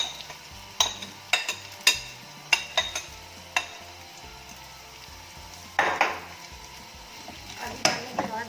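A spoon scrapes and clinks in a pan while potatoes and onions are stirred together over heat, several sharp metallic knocks at uneven intervals over a low background, with a voice speaking intermittently.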